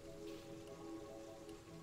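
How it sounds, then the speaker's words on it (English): Steady rain falling in the video game Terraria, a soft, even patter with a tonal hum beneath it that continues throughout at low volume. "It's still fucking raining."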